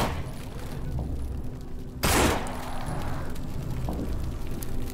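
A single loud gunshot blast bursts from a shooter video game, cutting through a constant dense wash of in-game ambience and rumble.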